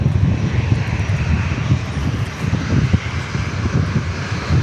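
Airplane engine noise from an aircraft flying over Dallas Love Field, a steady, loud low rumble that stays constant throughout with a touch of wind.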